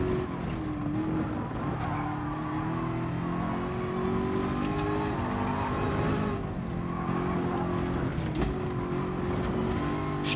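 Ford GT LM race car engine in Gran Turismo Sport, a steady loud droning whine that rises and falls through corners with brief skid or tire noise, continuous throughout with no talk.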